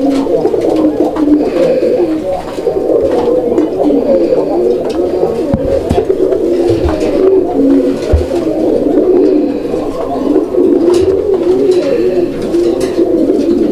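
A flock of Raj-gola desi pigeons coos close by without letup, many overlapping throaty calls forming a dense, loud, steady murmur.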